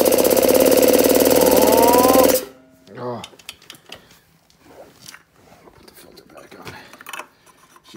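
A 1985 Camaro Z28 engine cranks loudly in a fast rhythmic churn for about two seconds, then cuts out, leaving quiet clatter and scattered noises.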